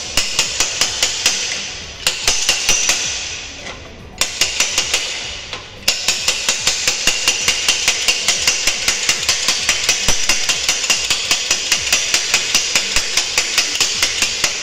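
A hammer taps a bolt on a Suzuki GT125 motorcycle being rebuilt, in a long run of sharp, evenly spaced metallic blows with short pauses near the start, close and loud with no talking.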